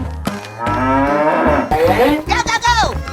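A cartoon cow in a 3D animal slide game lets out a long, loud, close moo with rising and falling tone, followed by a second shorter bellowing call.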